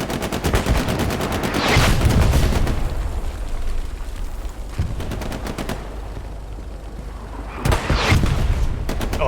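Artillery fire striking a capture point in a multiplayer war game with tanks nearby: rapid machine-gun rattles and heavy booming explosions arrive in loud bursts, with sustained rumbling between impacts.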